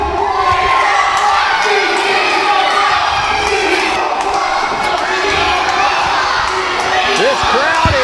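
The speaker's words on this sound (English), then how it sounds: "This crowd is loud." A packed crowd at a UWC wrestling event cheers and shouts loudly and continuously, a dense roar filling the whole stretch.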